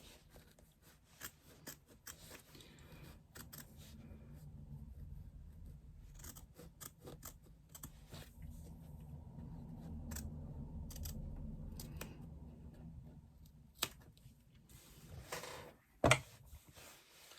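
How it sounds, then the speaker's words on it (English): Scissors trim foam from a seam allowance while a retro clutch lining is fitted to its exterior, making a long run of quiet, close snipping and rasping cuts with a few sharper clicks near the end, no voices. "Trim away as much of that foam as we can from the seam allowance."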